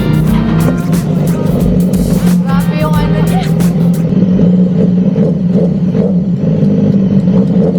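A BMW motorcycle engine idles with a steady low throb close by, while someone talks over it throughout.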